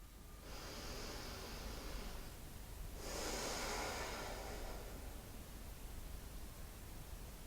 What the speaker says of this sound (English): Just take 2 very calm breaths here